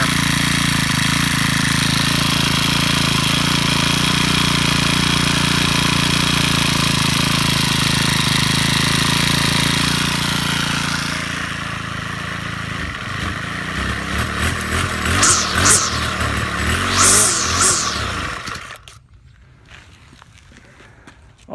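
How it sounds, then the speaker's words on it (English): A Troy Bilt 575 EC four-stroke weed eater runs with a loud, steady drone close by after a carburetor replacement. It then drops to a rougher, fluttering idle with revving swells before cutting off into near silence. "I love these 4-stroke weed eaters just because of how quiet they are."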